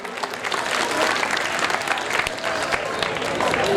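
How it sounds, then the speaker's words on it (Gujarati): Sustained applause from an audience at a Gujarati folk music night (lok dayro), dense and steady clapping filling the whole stretch with some crowd noise mixed in. "જોરદાર એના માટે તાળીઓ પાડી શકો છો"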